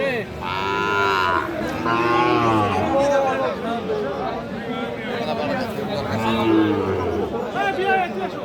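Sahiwal bull calves bellow several times at a busy cattle market, long loud moos rising over steady crowd chatter and background voices.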